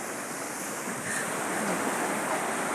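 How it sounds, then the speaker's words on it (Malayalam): Surf rolls steadily onto West Hill beach in Kozhikode, a continuous broad wash of breaking waves with a slight swell in loudness partway through, no voices. "ഇത് പിന്നെ കോഴിക്കോട് വെസ്റ്റി കടപ്പുറ"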